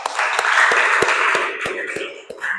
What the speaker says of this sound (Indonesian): Beri tepuk tangan untuk kita bersama.